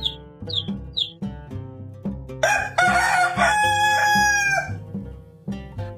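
An Ayam Cemani rooster lets out one loud crow of about two seconds, near and clear. Short chirps come before it and a rhythmic beat runs underneath throughout.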